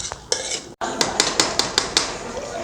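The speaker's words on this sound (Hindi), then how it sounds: "सालन तैयार हो गया है, अब इसको निकालेंगे हम देचकी में।" Finished curry is scooped from a pan into a cooking pot, a quick series of bright metallic ladle clinks and scrapes against the metal following a brief pause, close and fairly loud, with faint sizzling underneath.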